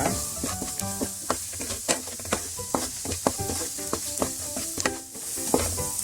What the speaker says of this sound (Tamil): நம்ம சேர்த்துக்கிட்ட பொடி எல்லாமே பச்சை வாசனை போகிற அளவுக்கு நல்லா வதக்கியாச்சு